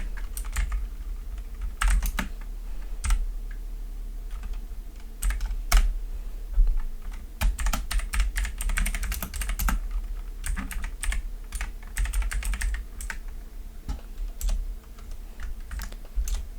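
Rapid bursts of keystrokes on a computer keyboard while a title is edited in video-editing software, close and fairly loud over a low hum, with short pauses between runs of typing.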